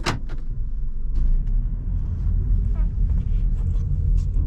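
A 2002 Toyota Camry engine idling steadily, a low continuous rumble close by, with a person talking over it throughout.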